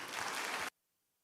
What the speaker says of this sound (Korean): 우리 나오실 때 큰 박수로 응원해 주시겠습니다.